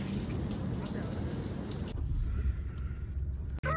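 Steady, loud broadband rain noise that fills the clip, with a sudden shift in tone midway and a brief sharp knock near the end.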